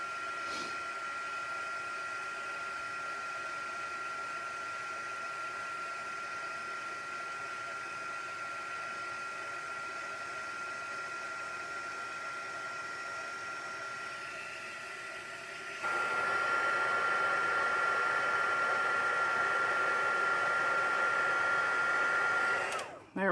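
A handheld heat embossing tool blows steadily to melt embossing powder on a Christmas card, a constant whirring hiss that rises louder partway through and then cuts off at the end.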